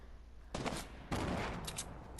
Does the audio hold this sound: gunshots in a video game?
yes